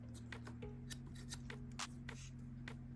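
A pair of scissors from a Cricut Explorer 2 tool set being handled, with faint soft clicks and rustles over a quiet steady hum.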